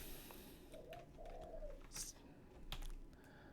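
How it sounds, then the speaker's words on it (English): A bird calls faintly in the background with a few soft cooing notes, mixed with light tapping and clicks nearby in an otherwise quiet room. "Don't exactly know what kind of bird it is, but it's neither of those two things."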